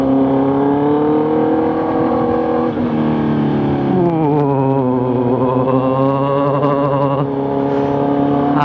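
A Kawasaki Z900 motorcycle engine drones loud and close, holding a steady pitch, then rising as it accelerates after a brief dip, continuous throughout with no talk.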